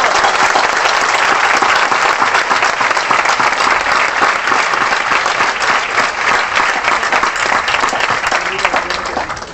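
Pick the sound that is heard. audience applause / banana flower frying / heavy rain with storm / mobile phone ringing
audience applause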